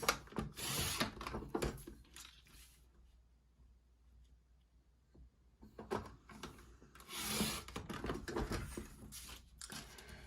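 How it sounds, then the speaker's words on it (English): Paper strips being cut on a paper trimmer, giving rasping, rubbing blade strokes in two clear bursts with a quieter stretch between, close and alone with no voices. "We're going to cut a couple of 1-inch strips."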